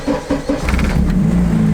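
A Honda S2000 engine cranks over with a few quick starter pulses after the push-start button is pressed, then catches and settles into a steady, close idle.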